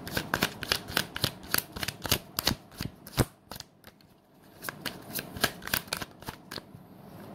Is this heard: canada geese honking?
no